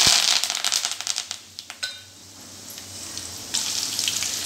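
Fennel seeds and curry leaves crackle and spit in hot oil, a quick run of sharp pops in the first two seconds that settles into a softer, steady sizzle, with a brief louder flare near the end.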